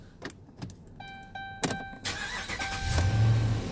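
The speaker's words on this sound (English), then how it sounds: "I'm going to start up the truck" A pickup truck fitted with a Meyer E58-H snow plow starts up: dashboard chimes, a brief crank, then the engine catches and settles into a steady, rising idle, all nearby with no talking.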